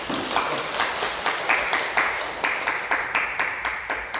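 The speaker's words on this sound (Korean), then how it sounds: "따뜻하게 박수로 환영해 주시고" Warm applause from a congregation welcoming visitors during a Sunday church service, a steady wash of many hands clapping with some distinct nearer claps, at moderate level with no speech over it.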